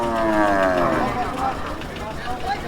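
A young bull moos at a cattle market, one long close bellow sliding down in pitch, followed by the crowded murmur of the haat.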